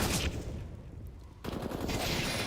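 Rapid gunfire exchange in CS:GO, bursts of shots crackling loud and close, a brief lull mid-way before the firing resumes.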